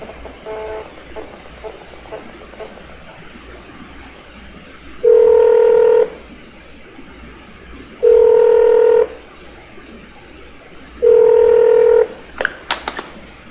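A Gempro GP-530 fixed wireless terminal dials out a GSM number: three loud, steady tones, each about a second long, sound at roughly three-second intervals over a low background hiss, followed by a few short clicks.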